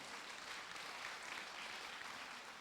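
A church congregation applauds in praise of the Lord, a steady, even wash of many hands clapping that holds at a constant level throughout, with no voices rising above it.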